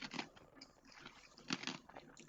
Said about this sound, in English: Chewing on some ice.